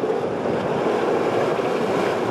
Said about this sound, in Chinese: 淡水金色海岸水漫过岸上